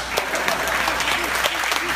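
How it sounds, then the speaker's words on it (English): Audience applause at a keynote on sales hustle at the DIG SOUTH 2015 conference, a dense steady clapping from a large crowd filling the full two seconds at even loudness, with no break or fade. "Let's clap it up for the sales fucking hustle."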